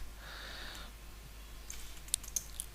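A computer keyboard being typed on while writing Java code, a quick cluster of light key clicks near the end of a quiet stretch.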